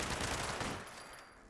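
Unsuppressed 10mm submachine gun firing in Fallout 76, a loud dense burst of rapid shots that tails off into a fading echo.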